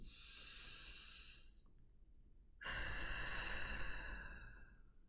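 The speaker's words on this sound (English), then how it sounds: "take a deep breath in through your nose and exhale slowly through your mouth" Slow, deep breathing from a meditation session: a long airy inhale through the nose, a pause, then a longer, louder exhale through the mouth, close and soft with no talk.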